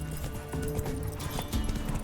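Roach, the horse in The Witcher 3: Wild Hunt, galloping with rapid, continuous hoofbeats under in-game music and ambience.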